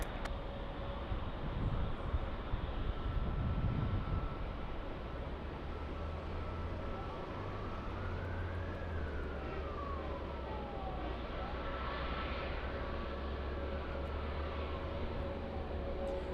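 An Airbus A380 airliner at LAX airport gives a steady, heavy jet roar with a deep low rumble, while faint engine whines slowly rise and fall across the passage. There is no talk.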